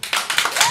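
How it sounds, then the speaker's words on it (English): Brief burst of an audience clapping to vote at a comedy show, a dense patter of many hands lasting under a second. "This is a vote by clap."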